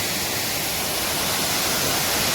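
A forest waterfall fed by rain from higher up roars steadily as a dense, continuous hiss, loud and close, with no voices over it.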